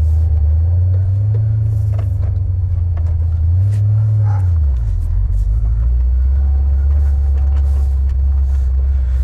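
A Ford Mustang driving on a road gives a loud, steady engine rumble close by, with its pitch rising and falling through gear changes and then levelling off into an even cruise.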